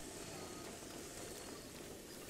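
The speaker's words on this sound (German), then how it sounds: "Und es regnet wie aus Eimern." Heavy rain in the video game Zelda Breath of the Wild, a dense, continuous hiss of rainfall at constant level with no breaks.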